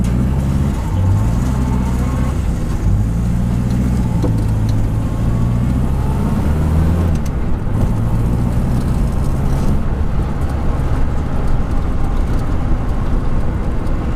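A 1962 Morris Minor runs with a steady, loud low engine drone and rumble throughout, close by and continuous with no speech over it.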